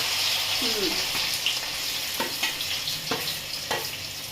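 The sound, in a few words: bitter gourd with salt and turmeric frying in oil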